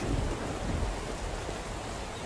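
Steady heavy rain pours with low thunder rumbling underneath in the SCUM video game, a dense, continuous wash of sound with no voices.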